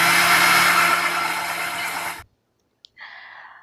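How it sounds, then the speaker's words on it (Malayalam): A mixer grinder whirs loudly for about two seconds as it blends oil and sugar for a cake batter, then cuts off abruptly, followed by a faint click and a short soft rustle. "നമ്മളിത് നല്ലോണം മിക്സിയിലിട്ട് അടിക്കണം."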